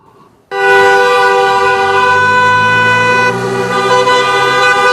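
Car horns at a street protest in Viseu over a closed pediatric emergency unit: a loud, sustained blaring horn starts abruptly and holds for several seconds, close and dominant.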